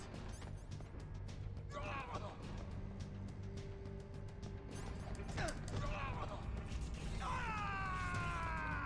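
An elevator moves in the video game Metal Gear Solid: The Twin Snakes, giving a continuous mechanical rumble with grinding, gear-like rattles and a few rising creaking groans over the top.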